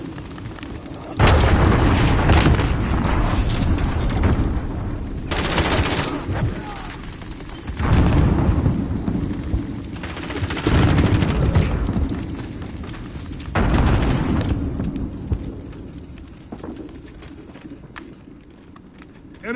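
Cruise missile strikes land in a PS4 shooter game: several loud, heavy booming blasts arrive a few seconds apart, each rolling out into a long rumbling tail, with brief game voice callouts between them.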